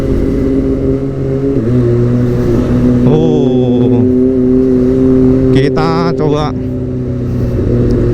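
A Kawasaki ZX-25R motorcycle with a Prospeed Shark exhaust idles, then revs hard in sharp rising bursts, loud and close, a high four-cylinder wail over a steady idle with someone talking briefly.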